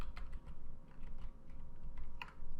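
Code is typed on a computer keyboard in quick, close key clicks in uneven bursts, with a louder keystroke near the end and no talk.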